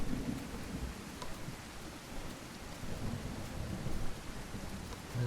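Thunder in the game The Isle rolls as a low, continuous rumble beneath steady rain, fairly faint and distant, with no voices.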